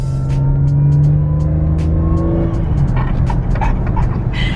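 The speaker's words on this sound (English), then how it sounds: "Listen to the whine." A supercharged Audi engine runs steadily with a sustained high-pitched supercharger whine layered over the low drone, holding near constant, close and loud.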